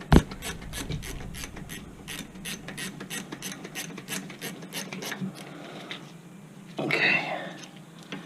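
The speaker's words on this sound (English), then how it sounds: "I love these ratcheting wrenches." Ratcheting wrench turning on Nissan Rogue rear brake hardware, a steady series of close, rasping clicks repeating for several seconds, then a brief louder scrape near the end.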